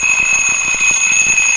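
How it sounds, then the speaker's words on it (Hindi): An alarm clock rings loudly and continuously, its piercing electronic tones sustained and unbroken, with no voices. "पहले इसको अलार्म सेट कर लेते हैं"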